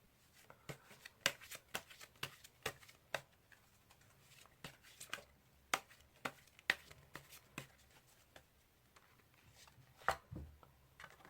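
Tarot cards are handled and drawn during a reading, giving a series of soft, sharp taps and flicks at irregular intervals, close and quiet, with no speech.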